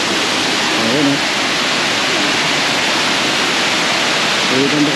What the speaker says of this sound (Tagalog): Ganda ng mga ilog dito sa Bicol, mga idol.